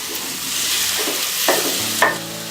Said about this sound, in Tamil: இப்போ வந்து நான் அந்த உருளைக்கிழங்கு வேக வச்சுருக்கிறேன், அதை போட்டுடுறேன்.